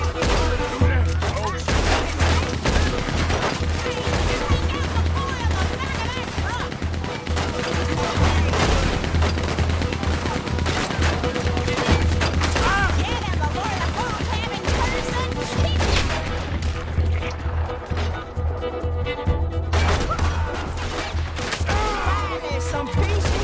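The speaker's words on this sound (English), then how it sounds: "That boy's gonna get on the Gatling gun." Sustained rapid gunfire from a Gatling gun in the Red Dead Redemption 2 video game, loud and continuous throughout, mixed with crashes, game music and ambient noise, with some voices faintly underneath.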